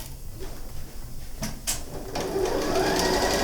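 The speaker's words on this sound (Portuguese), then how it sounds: "E máquina de costura." A sewing machine stitches fabric for a zippered pouch with bias binding, a quiet run of rapid mechanical clicks and whirring preceded by brief handling knocks, close and fairly faint.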